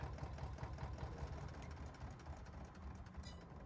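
A rough, rumbling engine churns and knocks steadily, a low mechanical chugging that runs continuously with no voices.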